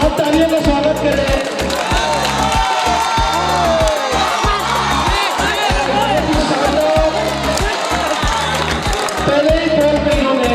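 Loud, dense crowd cheering and applause at a cricket tournament just after a six is hit, continuous throughout with whoops and a steady rhythmic beat pulsing underneath.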